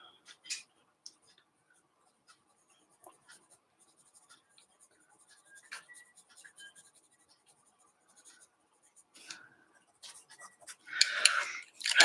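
Colored pencil on a dragon colouring page, making quiet, scratchy strokes with short irregular taps and scrapes, then a louder, faster burst of scribbling near the end.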